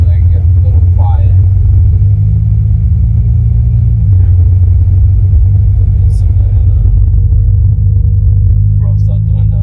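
A 2019 McLaren 570S sports car drives with a loud, steady low engine rumble inside the cabin, its pitch dropping briefly as it shifts, while a person talks over it.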